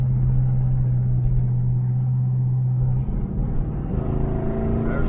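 A 1978 Chevrolet El Camino SS with a four-barrel carburetor, heard from inside on a test drive, gives a steady low engine rumble that shifts pitch about three seconds in as the transmission kicks down, then climbs in a harder, louder pull.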